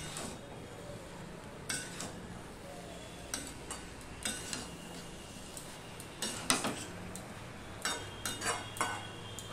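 Cooked cabbage being mixed with fried pumpkin and eggplant in a pan, giving scattered metallic clinks and scrapes of a utensil against the pan at an irregular pace over a soft background hiss, with no talking.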